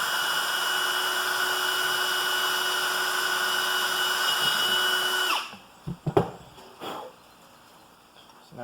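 A power drill fitted with a 3/16 bit bores through plastic with a steady, high whine for about five seconds, then cuts out, leaving a few clunks and handling knocks.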